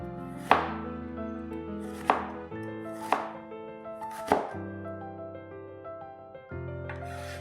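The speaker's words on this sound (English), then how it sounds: "Pile all these slices up and cut them into julienne or strips that are of 2 to 3 mm thick." A knife chops through stacked potato slices on a board, cutting them into thin julienne strips: four sharp, separate strikes spaced about a second apart, close and clear over steady background music.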